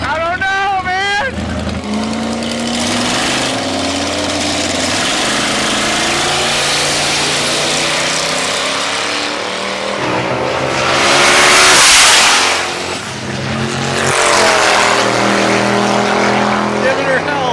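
A loud drag racing car engine revs and roars with rising whines, surging to a louder blast near the end, while people talk over it.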